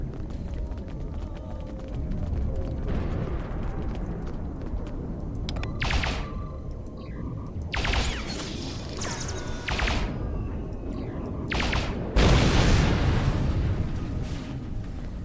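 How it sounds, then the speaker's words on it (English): Weapons fire and explosions in the Star Trek Online video game: a dense, rumbling battle bed broken by repeated bursts and booms, with a heavier blast near the end. "They're just constantly shooting me here."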